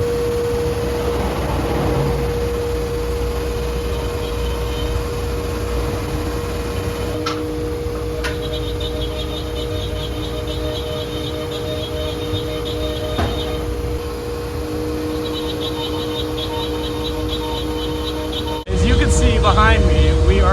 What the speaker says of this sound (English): Behind me, we are cutting out the first round of the Sleep Ride platforms for the 2018 Crosstrek to 2022 models.